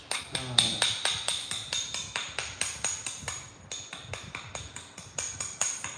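Flint knapping: a stone tool strikes a flint edge to bevel it, producing a steady run of sharp, bright clicks and taps, close and evenly spaced, with brief pauses.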